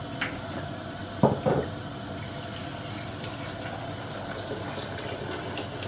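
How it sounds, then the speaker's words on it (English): A steady rush of boiling water poured into a pot on a cooker runs throughout, with a couple of brief clatters early on. "and then I add water, boiling water."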